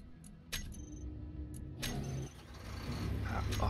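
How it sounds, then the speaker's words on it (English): A hydrogen engine block starting up in the video game Space Engineers, with a deep truck-like rumble that kicks in about halfway and builds steadily, preceded by brief clicks and clatter. "big truck engine starting"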